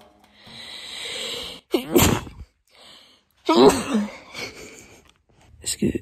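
A loud, sharp sneeze bursts out after a breathy build-up, followed by another sneeze or snort, with quiet gaps between.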